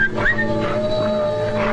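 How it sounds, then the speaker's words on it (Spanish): A dog whimpers and yips in an outdoor Western setting, with high thin whines rising briefly over a steady background of low noise, close and fairly clear. "Hasta los perros son amistosos."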